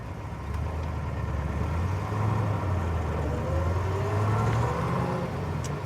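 A 1964 Chevrolet Corvette C2 fuel-injection coupe idles steadily up close in the sun, a low continuous rumble with slight shifts in pitch, heard from inside the vehicle without talking.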